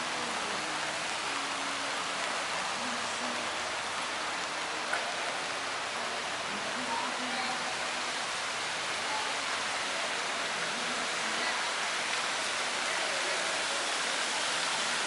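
Outdoor fountain sculpted as a leaping gazelle splashes continuously, a steady broadband wash of falling water heard alone at moderate level.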